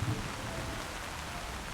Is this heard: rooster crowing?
no